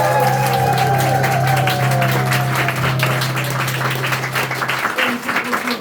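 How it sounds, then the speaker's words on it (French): Audience in a theatre giving a thunderous ovation to the musicians after an improvised show: dense, sustained applause with a droning musical tone beneath it, fading slightly toward the end. "je vous propose qu'on fasse un tonnerre d'applaudissements à nos musiciens"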